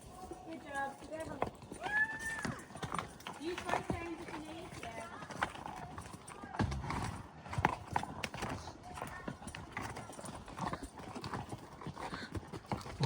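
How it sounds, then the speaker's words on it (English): Horses on a trail ride in Banff's Bow Valley, their hooves clip-clopping in an irregular rhythm with a neigh, while riders talk over the plodding steps. "We have been riding for about an hour now, and I'm feeling like a pro horse rider."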